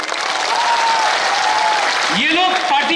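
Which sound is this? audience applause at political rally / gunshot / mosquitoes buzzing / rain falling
audience applause at political rally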